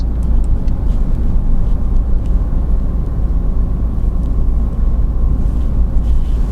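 Steady engine and road drone from a Fiat/Abarth 500 cruising in fifth gear on cruise control, a continuous low rumble with tyre noise filling the cabin at an even level throughout, with no talk.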